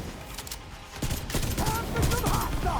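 Sustained automatic gunfire in The Division 2 during an Iron Horse raid, with rapid bursts of shots that grow louder and denser after the first second and continue steadily to the end.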